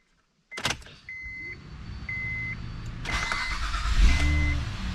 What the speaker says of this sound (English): Oh, it started. It's running.